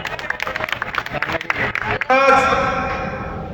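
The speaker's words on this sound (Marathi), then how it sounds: "मित्रांनो, त्यासाठी एकदा जोरदार टाळ्या होत्या." Crowd claps and cheers at a birthday celebration, first as scattered sharp claps, then as a loud, sustained round of applause that slowly fades.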